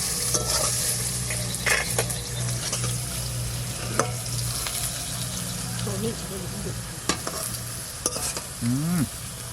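Egg curry simmering in a clay pot, with steady stirring scrapes and a low sizzle running throughout, several louder clinks and scrapes along the way, and a voice talking intermittently nearby.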